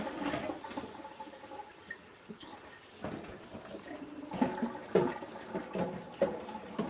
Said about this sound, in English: I need to wash my bowl, my pot out